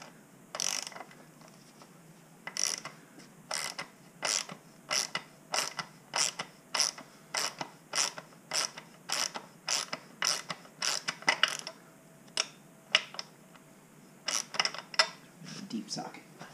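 A hand ratchet turning a deep socket to tighten a fitting on an LSX engine's water pump heater line clicks in short repeated strokes, a steady run of crisp ratcheting bursts with brief gaps between them.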